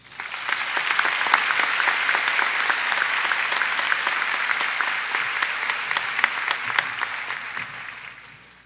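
A large high school graduation crowd claps steadily for several seconds, the applause swelling quickly, holding dense and even, then tapering off at the end.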